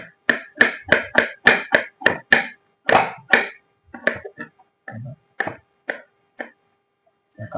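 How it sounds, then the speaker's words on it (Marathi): Knife chopping an onion on a cutting board, a rapid run of about a dozen sharp, close taps that thins out into slower, scattered cuts with short pauses between. "आता मी कांदा कापतोय."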